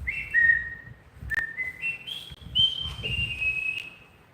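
A person whistles the Bridge Over the River Kwai theme, a clear, close melody of sustained notes stepping up in pitch, with faint low background noise beneath.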